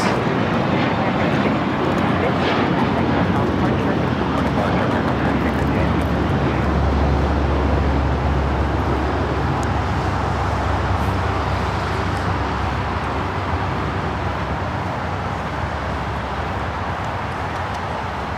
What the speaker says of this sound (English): Coming in from Cabo, 737 MAX 9, I believe, and this aircraft is brand new